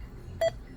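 An Anytone 6666 10-meter CB radio gives a single short electronic beep, clear and near, against a quiet low background hum.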